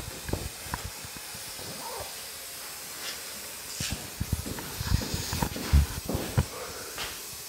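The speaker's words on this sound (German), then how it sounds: "einen sprühbaren Primer, den ProClimas Primer" Spray primer (ProClima) misted onto a wooden surface at a building site: soft hissing spray bursts with scattered handling knocks and clatter, moderately close, no talking.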